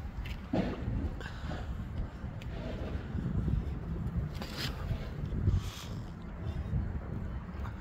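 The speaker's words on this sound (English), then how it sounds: "whoa, yeah, it's windy out here." Wind blows outdoors and buffets the microphone in uneven rumbling gusts that rise and fall, with faint rustling and a voice in the background.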